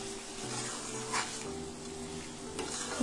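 Fried paneer being gently stirred into masala in a pan for veg shahi paneer, a steady close sizzle with soft scraping from the spatula over a short stretch.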